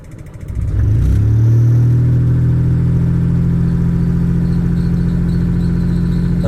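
A car's engine idles after a hard start when the car has been left unused a long while. It settles into a loud, steady hum close by and runs on evenly with no revving.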